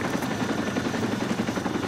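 Helicopter in the video game Arma 2, its rotor giving a steady rapid chopping thump, continuous and fairly close, with no talk over it.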